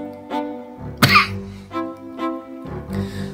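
A single sharp, loud cough bursts out partway through, with a softer throat-clearing sound around it against a steady tonal background.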